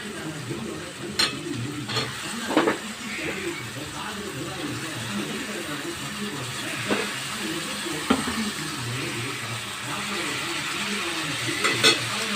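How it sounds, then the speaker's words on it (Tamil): Tomato, onion and brinjal sauté in a pan for hotel-style brinjal thokku, giving a soft continuous sizzle with occasional stirring clicks and scrapes, under a low room hum. "தக்காளி வெங்காயம் ஓரளவுக்கு வதங்க வதங்கினாலே போதும் கத்திரிக்காய் போட்டலாம்"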